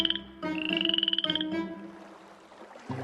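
Tree frogs croak in a rapid, pulsing rattle of loud calls, with a couple of bursts before the sound fades into softer background rustle.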